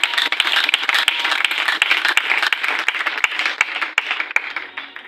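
Church congregation clapping in a dense burst of many hands, bright crackling applause that stays steady and fairly loud before thinning at the end.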